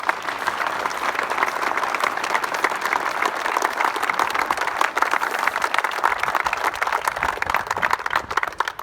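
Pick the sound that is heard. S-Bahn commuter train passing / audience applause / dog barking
audience applause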